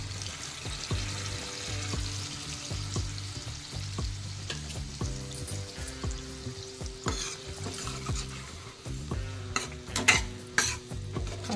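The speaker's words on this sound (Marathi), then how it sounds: "आता आपण ही डाळ शिजवून घेतलेली आहे ती टाकणार आहोत।" Cooked toor dal tipped into a pan with tamarind pulp and jaggery for a sweet-sour amti, then stirred: steady scraping strokes and a soft sizzle in a repeating rhythm, close and moderately loud with no talking.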